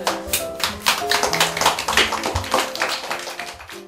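A small group of adults and children at an art therapy session claps hands together in brief, uneven applause, close and moderately loud.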